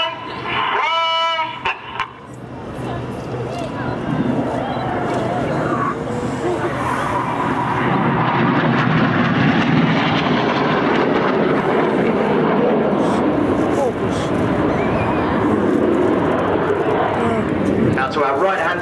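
Red Arrows jets in a display flight at Farnborough, Red 7 trailing blue smoke as it barrel-rolls around Red 6, giving a loud, sustained jet roar that swells and holds across the whole stretch, with a commentator's voice heard briefly near the start.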